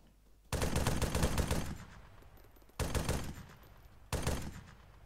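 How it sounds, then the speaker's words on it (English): Gunfire in ArmA 3: three loud bursts of rapid automatic fire, the first lasting over a second, then two shorter volleys, each with a trailing echo, fairly close and with no talk over them. "do I hear shots close?"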